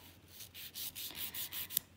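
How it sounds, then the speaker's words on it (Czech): A nail file rasps back and forth across polygel nails in a steady series of quiet, close strokes of roughly even rhythm, with no voices. "A teď si vezmu pilník"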